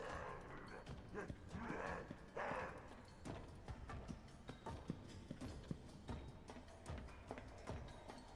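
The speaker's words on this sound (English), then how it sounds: "I can hear footsteps." Footsteps in a video game sound as a steady run of quick, hollow clopping steps with a few sharper knocks, fairly loud and continuous over muffled background noise, with no talking.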